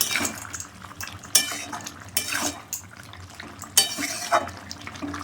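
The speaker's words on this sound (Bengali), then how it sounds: "তরকারিটা নেড়ে দিলাম স্বাদ মতো লবণ দিয়ে দিলাম দিয়ে নেড়ে দিলাম" Koi fish curry with cauliflower and potato being stirred in a pan, with soft scraping and clinking of a utensil against metal, a few sharper knocks standing out over a low cooking background.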